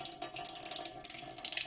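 A cold water tap in a poorly built house runs fully open, giving a steady hissing splash into a sink with small fluctuating spatters, moderately quiet and with no talking.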